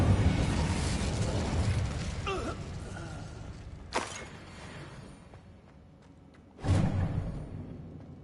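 The Incendio fire spell is cast in Hogwarts Legacy, bursting in two sudden whooshing flares a few seconds apart, loud and close over a low rumbling game ambience.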